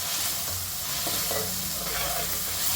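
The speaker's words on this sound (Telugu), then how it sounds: "మొత్తం ఇలా కలిపేసుకోవాలి" Fish curry being stirred in a pan with ginger-garlic paste and turmeric, a steady soft sizzle with light scraping strokes of the spoon throughout and a brief sharper knock near the end.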